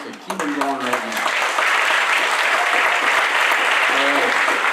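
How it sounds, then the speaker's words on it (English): Audience applause at a symphonic band concert, a loud sustained burst of clapping from a large crowd that swells quickly and holds steady, with a voice speaking briefly over the start and end. "Give me a nice round of applause just to keep them going right now."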